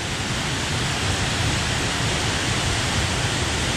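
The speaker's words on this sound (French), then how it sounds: "Une des plus hautes cascades d'Irlande, à Glencar, à côté de Sligo" Glencar waterfall near Sligo in Ireland roars as a constant, dense rush of falling water, loud and unbroken throughout with no voices.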